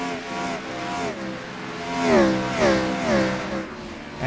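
Outcast Gen4 Series race cars roar around the Richmond track, engines revving and rising in pitch as several cars sweep past in quick succession, loud and close with a sustained mechanical drone.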